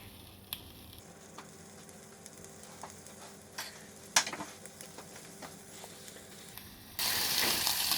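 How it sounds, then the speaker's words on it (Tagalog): Chicken or pork frying in rendered pork fat in a pan for pinakbet: a soft sizzle with scattered clicks of stirring, rising at the end into a loud, dense crackling hiss. "saute first the chicken or fry the chicken"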